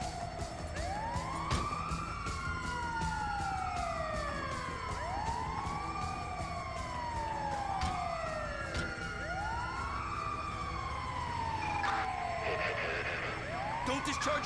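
Ambulance siren in the video game GTA V wails in continuous rising and falling sweeps over a steady rumble of engine and traffic, with sharp clicks and game sounds throughout.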